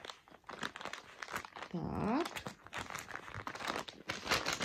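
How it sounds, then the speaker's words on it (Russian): Plastic packaging crinkles as a small plastic bag is sealed shut with a sticker while wrapping a handmade gift, close and moderately loud, with a brief word spoken. "сейчас заклею вот этот пакетик, а заклею я его вот такой наклейкой"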